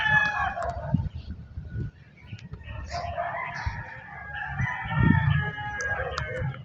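A rooster crows repeatedly amid steady clucking from a flock of chickens outdoors in the Sierra Madre hills, with low rustling and thumps underneath.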